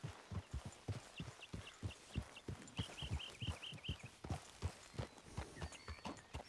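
Steady clip-clop of horse hooves walking at an even pace in Red Dead Redemption 2, with light chirping calls in the background; no one speaks.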